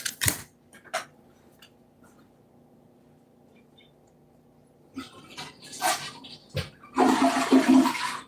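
A household toilet is flushed, with a few clicks and clunks of the handle followed by a loud, close rush of water at the end.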